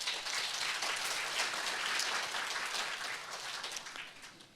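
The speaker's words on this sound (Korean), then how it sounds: "기대를 가지고 박수로 한번." Audience clapping for a speaker at a peace education forum on Jeju, a dense, even burst of applause from a crowd that holds steady, then fades toward the end.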